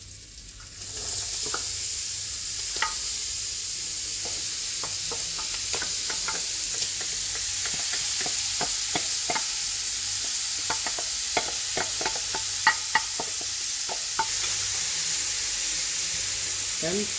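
Sliced onions, carrot, celery and garlic are stirred into a hot pan for a Bolognese sauce, giving a steady sizzle with repeated scraping stir strokes throughout, close and moderately loud.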